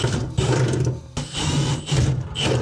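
A power drill bores two holes through the steel body of a 1958 VW Beetle for air ride mounts, a steady close whirring grind that pauses briefly midway and then resumes.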